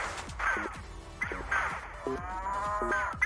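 A cow in a Fallout video game moos repeatedly during an alien abduction, four drawn-out calls at a steady rhythm, mixed with zapping electronic game sounds and falling tones.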